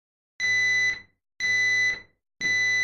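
A Nest smoke detector sounds three loud, evenly spaced horn beeps, each lasting about half a second, with silence between them.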